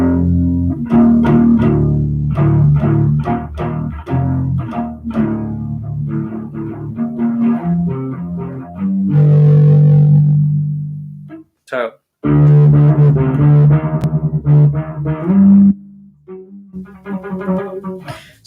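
A distorted bass guitar, a U-Bass, plays a sequence of gritty, buzzing notes and sustained power chords, close and loud, with a brief pause midway.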